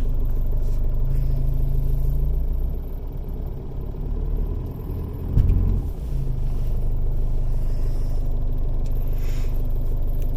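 A 2005 Jeep Liberty CRD diesel, sunk into soft ground after sitting six years, reverses out with a steady loud low rumble, a dip in engine note midway and a brief thump before the drone resumes.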